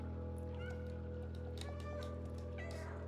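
A cat meows repeatedly in the Stray video game, a modded Bengal cat or tomcat, with several short rising calls over a steady droning game soundtrack.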